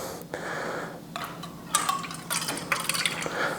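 Water is poured into a cup during a project dyeing shou sugi ban wood with food coloring, giving a short splashing fill with a few clinks of the container, close and fairly clear, with no one speaking.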